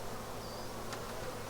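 A swarm of about 10,000 bees hums softly as a steady, faint buzz, with one insect briefly passing close by.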